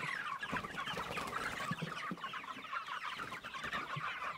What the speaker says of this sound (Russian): Кормить цыплят надо.